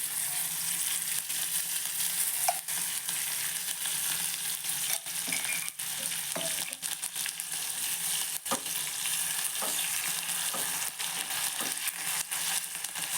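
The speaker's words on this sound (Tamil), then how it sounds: "இப்போ கருவேப்பிலை சேர்க்குறேன். இன்னும் கொஞ்சம் நெய் விட்டுக்கலாம்." Curry leaves sizzle in hot ghee for coriander pongal, a steady close frying hiss with scattered small crackles and pops throughout, no voices.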